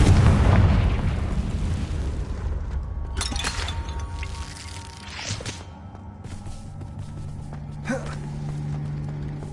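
A Confringo blasting spell detonates in a video game, a heavy low boom at the start that rumbles and fades, followed by softer debris clatter and faint crackles.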